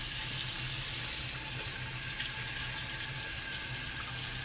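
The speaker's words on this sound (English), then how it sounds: "she wants to rinse off the soap residue very well" Tap water pours steadily into a sink for rinsing away soap residue, a constant close hiss with no voices.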